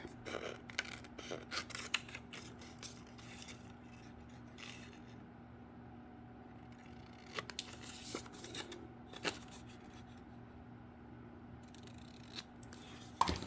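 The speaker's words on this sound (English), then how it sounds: "go back through with our scissors and just trim that off" Scissors snip through scrapbook paper in quick irregular clusters, close and fairly quiet, with a low steady hum underneath and short pauses between cuts.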